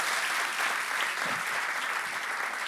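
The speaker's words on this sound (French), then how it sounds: "Quand vous applaudissez, essayez de faire ça en même temps" An audience applauds in a dense, steady wash of clapping that holds at an even level throughout, with no one talking over it.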